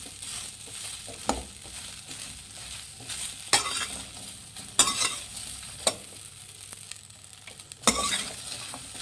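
Bhindi (okra) sambar ingredients fry with a steady loud sizzle in a pan while a spoon stirs them, scraping against the metal with sharp intermittent clacks and scrapes.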